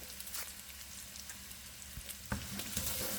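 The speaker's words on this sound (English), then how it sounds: "Then I added about 4 garlic cloves and I let them saute for about a minute." Garlic cloves, bay leaves and sazon with culantro and achiote sautéing in a pan, a soft steady sizzle with occasional stirring clinks and scrapes, heard fairly close and quiet with no talk.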